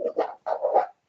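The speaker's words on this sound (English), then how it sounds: "That was my dog Ozzy with a bone" A dog with a bone gives a few short, close, muffled growly vocal bursts, two quick clusters separated by a brief silence.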